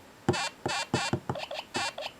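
A LEGO Super Mario starter set mushroom toy gives a quick run of six short, bright electronic jumping bleeps in an uneven rhythm, close and fairly loud, with no voices.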